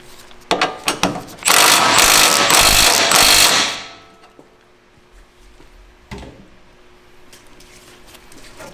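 A 17mm bolt on a Nissan S15 Silvia coilover install is run in with a power tool, giving a few quick clicks and then a loud whirring burst of about two seconds before it stops, with scattered clanks afterward.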